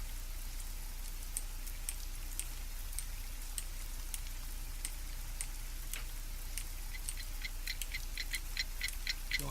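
A clock ticks in an Unreal Engine 4 ambient scene with rain and a low hum: steady faint ticks sit under continuous rainfall and a constant low drone, with no speech.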